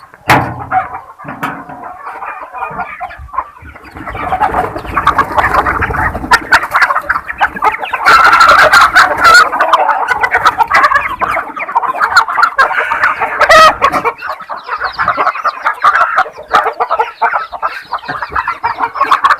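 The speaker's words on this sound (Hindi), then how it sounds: "पोल्ट्री फार्म का बना रखा है सर" Chickens on a poultry farm within an organic integrated farming setup, a dense, continuous chorus of clucking and cackling from many birds, loud and close, with occasional crowing rising above the flock.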